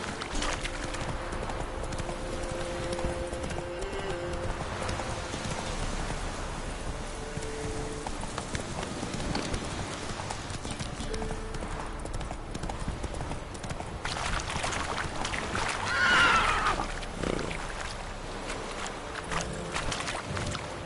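Roach, a horse in the video game The Witcher 3, gallops in a steady clip-clop rhythm of hooves throughout, mid-distance, with a brief swell of game ambience near the end and no talk.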